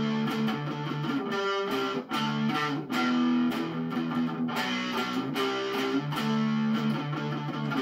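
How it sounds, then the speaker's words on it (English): Overdriven electric guitar, an ESP LTD MH-17 seven-string on the neck pickup through an overdrive pedal, playing chords and riffs, thick and gritty with sustained crunchy tone, loud and continuous with brief pauses. "now I've connected an overdrive pedal because we're testing out some overdrive tones anyway"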